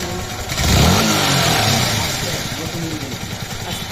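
A Yamaha R15 v3 motorcycle engine, freshly fitted with a new cylinder block, rises in a brief throttle blip near the start, then settles back into a steady close idle while someone talks over it.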